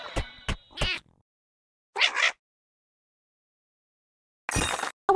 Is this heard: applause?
no